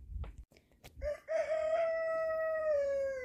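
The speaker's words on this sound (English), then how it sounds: "I seriously just started a video, and the roosters are crying again." A rooster lets out one long, loud crow close by, rising and holding steady before trailing off, after a few short clucks and knocks.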